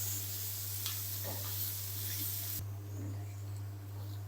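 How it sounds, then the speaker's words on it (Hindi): Onions and bell peppers fry in a pan with a steady close sizzle, broken by a few scraping stirs and light clicks over a constant low electrical hum. "अब हम 3 से 4 मिनट के लिए और पकाएंगे ताकि जो प्याज हैं वो हमारे सॉफ्ट हो जाएं और शिमला मिर्च भी हमारी सॉफ्ट हो जाए"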